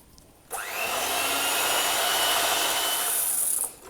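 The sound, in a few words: electric mixer beating red velvet cake batter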